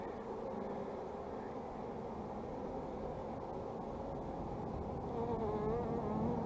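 Honeybees buzz in a hive while nucs are being made: a dense, continuous close drone of many wings, steady and loud throughout with slight wavering pitch.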